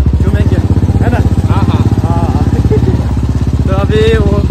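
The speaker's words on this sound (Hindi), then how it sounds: "हम लोग जा रहे हैं बाइक से" A motorcycle ridden toward a village near Rewa, its steady low engine drone running beneath continuous close talk from the riders.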